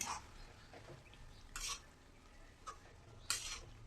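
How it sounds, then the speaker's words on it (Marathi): Dill leaf (shepu) greens and moong dal being stirred in a pan, with a few scraping, clinking strokes of a spoon against metal spread over a quiet background of faint sizzling. "भाजी टाकून परत एकदा आपल्याला चांगलं मिक्स करून घ्यायचं आहे"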